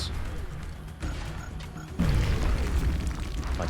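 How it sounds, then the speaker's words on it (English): Grenade explosion in XCOM: Enemy Unknown, a deep booming burst that thuds in and rumbles on at close range, set under the game's low background sound. "So let's have Jenkins grenade them."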